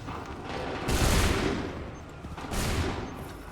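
Musket volley gunfire in Assassin's Creed 3, two dense bursts of massed shots about a second and a half apart, loud and rumbling over a steady background din.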